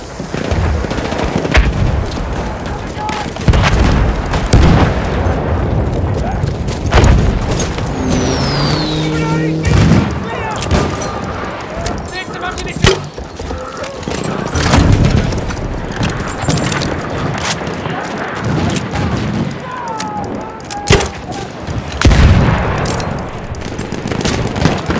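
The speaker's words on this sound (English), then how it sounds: "Enemy machine gun!" Enemy machine gun fire in a war video game rattles in dense bursts across a noisy battlefield mix, with vehicles and other combat sounds around it and voices calling out over the action.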